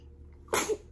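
A single sharp sneeze bursts out close by, brief and explosive, against a quiet background.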